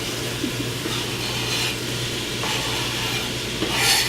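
Onion sweating in a pan for firemen's chili, a steady close sizzle with occasional stirring scrapes and a faint hum underneath.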